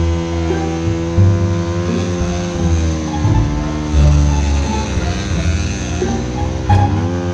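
A Zuum 300 CX enduro motorcycle engine running nearby, a loud, continuous buzzing drone with throttle rising and falling and a brief rev near the end.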